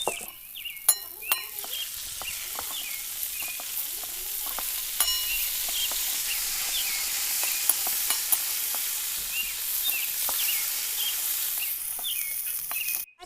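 Vegetable chow mein noodles frying in a pan with tomato and mixed vegetables, a steady hiss of sizzling broken by repeated metallic clinks and scrapes of a spatula, close and without talk.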